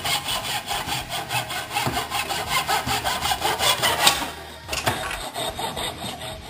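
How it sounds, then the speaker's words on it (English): A hand saw cuts through a block of wood in steady, rhythmic back-and-forth strokes, close and loud, pausing briefly before a few final strokes. "So let's cut the wood."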